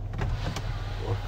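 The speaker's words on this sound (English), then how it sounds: "There's a 2-panel sunroof or moonroof, except only the front half opens. You can vent it" Sunroof motor on a 2014 Mercedes-Benz E550 4Matic tilting the front panel of its two-panel roof to vent, a short, steady electric whir heard close inside the cabin with no talk.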